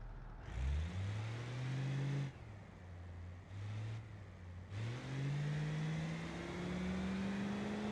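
A car engine in the driving game BeamNG, towing a trailer, revs up in rising pitch through several gears with short dips at the shifts, fairly close and steady.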